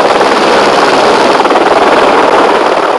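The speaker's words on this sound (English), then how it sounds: "A helicopter has to be used to transport the boat around" A helicopter's rotor thumps steadily close by, a loud continuous drone with rapid rhythmic beating that never lets up.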